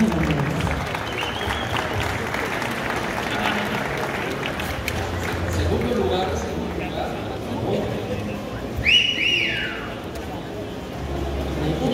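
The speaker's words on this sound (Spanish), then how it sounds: "Un fuerte aplauso, señores y señores." Audience applause greets the opening of the Expo Moto 2019 motorcycle show, a dense crowd clapping steadily at moderate volume, with a short bright whistle near the end.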